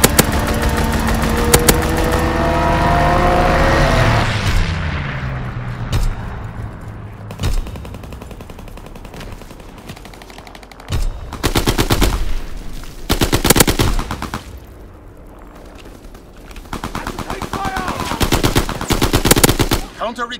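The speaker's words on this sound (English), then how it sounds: "Fighter pilot inbound, strafing the target." Rapid machine-gun bursts from a strafing fighter plane in Call of Duty: WWII, a long loud rattling volley at first with an engine roar, then repeated shorter bursts of automatic fire and blasts over the following seconds, with some game voice chatter.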